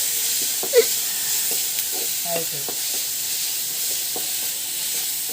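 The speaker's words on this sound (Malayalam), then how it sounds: "മൂത്ത് വരട്ടെ ഉരുളക്കിഴങ്ങ്" Potato pieces fry in a pan of oil with a steady, even sizzle, broken by a few soft stirring scrapes and clicks, heard up close with nobody talking.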